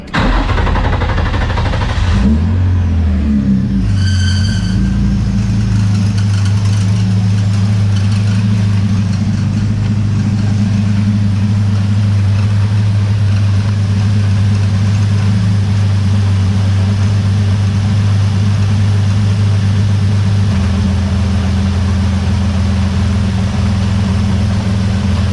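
Nissan S13 fitted with a VQ engine idling steadily after a misfire repair, a smooth low continuous rumble heard up close with a brief rev or start near the beginning and no voices.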